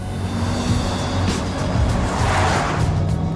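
A Porsche Taycan electric car accelerates hard, a steady loud whine and road roar building smoothly over a few seconds with no engine note.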